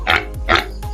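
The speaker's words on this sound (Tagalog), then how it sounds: "Ayun, may baboy." Two short, breathy grunts from a pig on a farm, close and fairly loud, separated by a brief pause, with a softer third sound at the very end.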